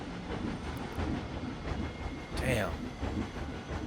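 A train rolls through a station in a theme park video game, a continuous rumbling clatter with a brief squeal partway through, as a voice speaks briefly over it.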